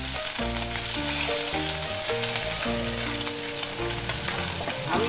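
Small mourola fish fry in a pan of hot oil with a steady, continuous sizzle, partly masked by a louder melodic music track that plays throughout.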